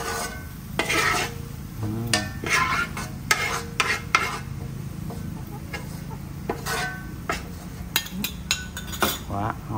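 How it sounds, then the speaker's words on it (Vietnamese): Crab stir-fried in a pot in a home kitchen, with utensil clinks and scraping against the pot over a low sizzle, the stirring strokes coming in irregular bursts while people talk nearby. "Cua vô xào."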